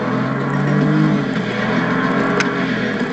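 Nissan GT-R engine under hard acceleration, a loud steady rising drone heard from inside the car, with wind and road roar around it.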